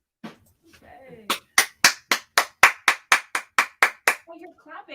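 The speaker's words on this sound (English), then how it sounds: "Oh, you're clapping." An audience at a small coffeehouse concert claps after a song, a brief burst of a dozen sharp, evenly spaced claps, loud and close, with a voice speaking just before and after.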